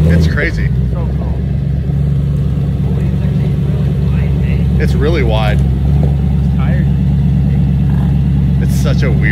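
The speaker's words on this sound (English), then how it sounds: "I think sounds cool with the pops. Yeah, it sounds good. Listen to that. Look at the exhaust." A barn-find Lamborghini's engine rumbles loudly and steadily at close range, with a few sharp exhaust pops breaking through while people talk over it.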